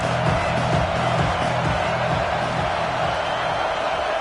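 A large stadium crowd at a Gators football game roars in a sustained, loud wall of cheering and noise that holds steady without a break.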